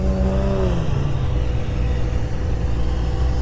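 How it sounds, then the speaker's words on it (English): Autocross race cars queue up for their runs at a Camaro gathering, with steady engine rumble and idling close by, plus one brief rev that drops away early on, and no talk. "Here is all of the autocross racers queuing up for their runs."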